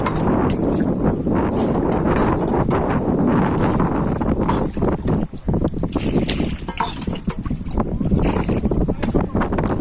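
A boat on open water during flood relief, its hull and motion buried under heavy, steady wind rumble and broadband noise that swells and dips across the whole stretch.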